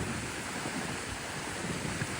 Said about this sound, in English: the waves is just a constant monotonous rolling growl